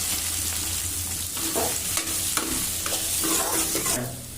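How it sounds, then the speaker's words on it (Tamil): Chopped onions frying and being stirred in groundnut oil with cumin, a steady close sizzle broken by scraping stirs, with no talk. "நம்ம பொடி பொடியாக நறுக்கி வச்சிருக்க வெங்காயத்தை சேர்த்துக்குவோம்"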